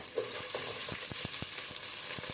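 Onions frying in oil in a pot with cardamom, cloves and cinnamon, a quiet continuous sizzle broken by a series of quick spoon scrapes and taps, close by.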